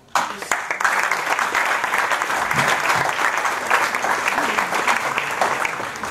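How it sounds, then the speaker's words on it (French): A ceremony audience applauds the parents in steady, dense clapping that holds at an even level for about six seconds, with no talk over it. "Donc je vous demande d'applaudir tous les parents."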